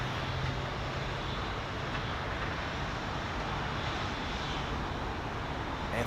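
Airliner departing London Heathrow for New York, a distant, fairly faint and steady engine rumble holding evenly throughout, with no voices.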